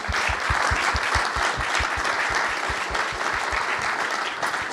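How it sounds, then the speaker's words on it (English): An audience at a policing reform panel discussion bursts into steady, loud applause, dense clapping that fills the room evenly and continues without a break. "can I get a quick round of applause for our panel here?"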